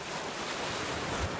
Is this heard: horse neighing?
no